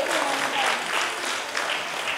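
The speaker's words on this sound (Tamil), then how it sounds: "அந்த குட்டீஸ்க்கு ஒரு பலத்த கைத்தட்டல் இன்னும் ஒரு முறை." Audience applause for children after a welcome dance and singing competition at an event, a dense steady wash of clapping that holds evenly across the short stretch with no voices rising above it.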